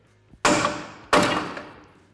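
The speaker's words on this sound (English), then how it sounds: "2 good smacks with the hammer" A hammer strikes the vacuum hub actuator on the front axle shaft of a Ford F150 4x4 twice, about two-thirds of a second apart, each blow a sharp, loud metallic whack with a short ringing decay.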